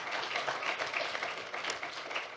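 Applause for an award recipient at a national Responsible Care trophy ceremony, a steady, fairly faint patter of many hands clapping from a seated audience without pause.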